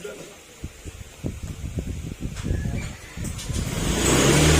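A Honda Click scooter with a newly replaced battery starts up, its engine building from uneven low bursts into a louder, steadier revving hum near the end, with someone talking over it.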